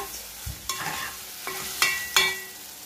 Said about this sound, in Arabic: تاخد كده تشويحه برده مع البصل والتوابل اللي انا حطاها